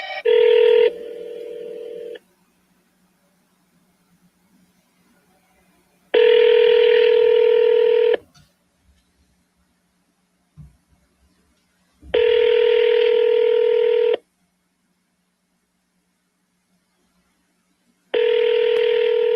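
Placing a phone call produces a ringing tone heard on the line: four steady buzzing tone bursts, each about two seconds long, separated by several seconds of near silence. It is loud and clear with no talking.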